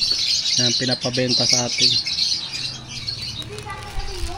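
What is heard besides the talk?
pet birds chirping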